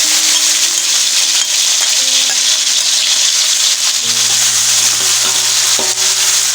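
Ground sambal bawang paste hitting hot cooking oil fries with a loud, dense, continuous sizzle close up, a steady bright hiss lasting throughout with faint stirring underneath and no talk.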